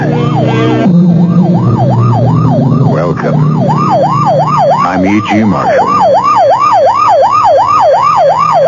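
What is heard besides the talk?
police car or ambulance siren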